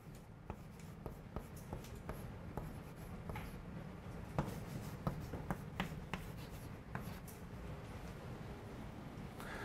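Chalk taps and scrapes across a classroom board during a calculus lecture: short irregular strokes and clicks, close and fairly quiet, over a low room hum with no speech.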